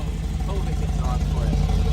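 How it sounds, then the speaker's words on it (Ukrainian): A Mercedes G63 fitted with an Akrapovic exhaust burbles in a deep, throbbing idle with slight revving swells, loud and close, while people talk over it. "Давай газку. Це вихлоп Акрапович."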